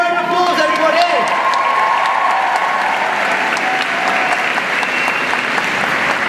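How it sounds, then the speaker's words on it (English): A large crowd at a live wand-combat stage show breaks into loud, sustained applause and some cheering, with a voice briefly audible over it at the start. "Give them a big round of applause, everybody."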